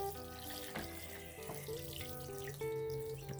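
Water is poured onto plants in a garden planter box: a steady, unbroken trickle and splash over a tonal background, with no talking.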